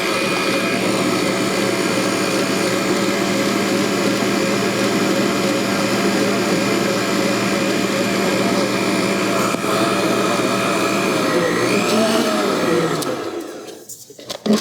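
A Kitchen in the Box 3.5-quart mini stand mixer whirs steadily while stirring zucchini bread batter, a loud constant motor hum close by that winds down and stops near the end.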